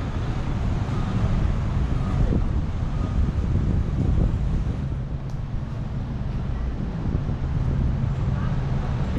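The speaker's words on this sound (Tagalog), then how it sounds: "kahit may malakas na hangin" Strong wind roars steadily across the microphone at night on a Waikiki street in Honolulu, a dense, buffeting rumble that never lets up, with faint speech buried underneath.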